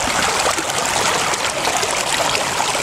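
Steady, loud rush of water flowing through a homemade gold sluice lined with gold hog mats, a dense continuous wash with no pauses or voices.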